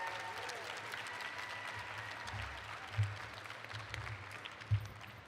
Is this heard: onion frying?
no